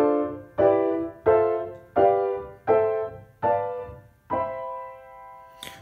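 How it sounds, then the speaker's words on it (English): Seven seventh chords struck one after another on a piano-like keyboard at an even pace, each ringing and decaying before the next, clear and close with no talking. "a series of seventh chords that will sound like this."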